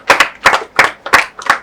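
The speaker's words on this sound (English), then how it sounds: "Please, another round of applause." Hands clapping in a hair-care talk session, five separate bursts of a few claps each in a steady rhythm, close and fairly loud, with no voices.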